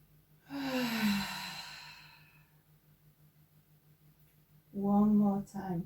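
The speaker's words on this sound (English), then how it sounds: "Beautiful deep releasing breath on the exhalation." Two deep breaths released during a gentle yoga session: a long, audible sighing exhale that fades slowly, then after a quiet pause a second, shorter breathy sigh, both close and clear over a faint steady hum.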